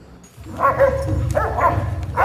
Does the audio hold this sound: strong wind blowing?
no